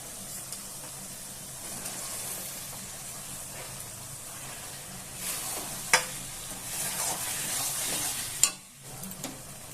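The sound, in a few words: cabbage dhoka pieces sizzling in spiced oil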